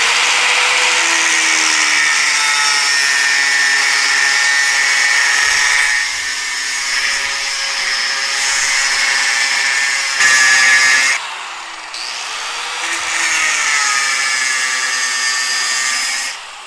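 Power tool cutting through the weld on a wheel being re-lipped, a loud, steady high-pitched whine and grind close up that dips briefly in a few places, with no talk.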